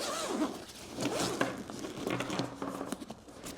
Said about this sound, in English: if you look at the zipper on the side, it zips all the way around the bag